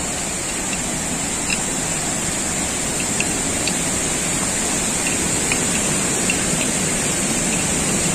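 Constant rushing roar of the first tier of the Lubuk Hitam waterfall in West Sumatra, steady and close with no voices.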